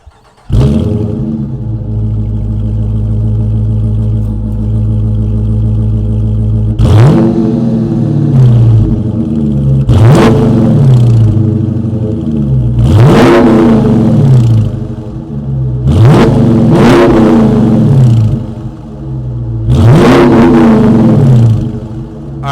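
A 5.7-liter V8 engine in a 2022 Dodge Charger R/T idles with a deep rumble, then revs sharply five times in a steady rhythm, each blip rising and falling back, loud and close.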